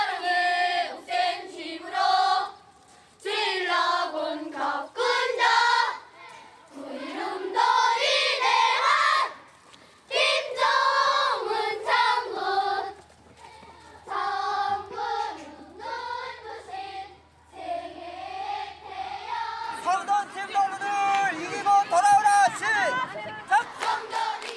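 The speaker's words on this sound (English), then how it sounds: "Each side is cheering on its team" Children at a stadium competition chant and cheer in loud, rhythmic group bursts with short pauses between them, followed by a denser stretch of crowd noise at the end.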